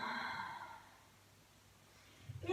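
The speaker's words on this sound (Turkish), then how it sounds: "Nefes alıyorum ve bırakıyorum nefesi ağzımdan" Audible mouth exhale during a beginner morning yoga session, one soft sigh-like breath released slowly and close, fading into quiet before a brief rustle at the end.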